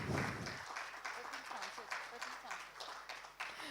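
An audience claps at an award felicitation, with quick scattered handclaps rising into steady moderate applause in a hall after a brief low rumble at the start.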